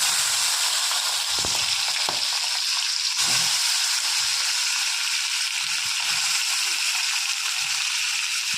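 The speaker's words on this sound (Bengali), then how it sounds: "তেলটা গরম হয়ে গেছে, মাছটা ছেড়ে দিচ্ছি" Prawns coated with salt and turmeric sizzle in hot oil for a Bengali prawn malai curry, a loud, steady, close frying hiss that runs the whole time with no voices.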